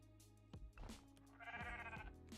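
Sheep in the cozy building game Tiny Glade let out several short, clear bleats over a soft game ambience, with a longer wavering bleat near the end.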